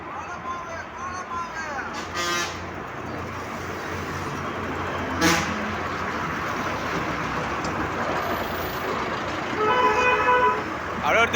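Busy road traffic with buses passes close by, a steady rumble of engines broken by several short, loud horn honks near the start and end, with people talking over it.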